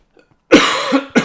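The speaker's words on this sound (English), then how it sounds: "Oh, my cough's really bad." A single harsh cough close up, followed by a second short cough burst after a brief pause.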